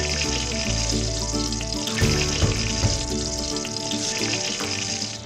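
Eggplant frying in hot oil, a loud, steady crackling sizzle heard close up, with a low hum and a few clinks from the pan.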